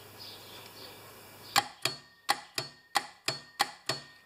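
A yard tractor mower, powered by its battery, gives eight sharp evenly spaced mechanical clicks after a quiet moment, close and crisp against faint background hiss.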